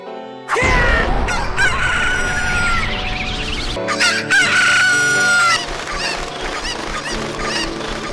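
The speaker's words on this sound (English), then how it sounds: "you see some cuckoos out there by the horse pen and they just start chasing after you" Cuckoos, the chicken creatures of a Zelda game's Lon Lon Ranch, make loud squawking, crowing calls and clucks in a dense, frantic flurry, with synthesized game sounds layered over them.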